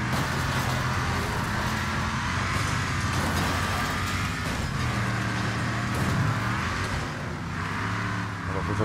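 Motorhome in the Wreckfest racing game, engine roaring loudly and continuously with grinding, scraping collision noise as it rams through opponents, dense and unrelenting throughout.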